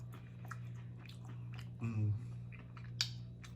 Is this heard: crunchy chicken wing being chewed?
yes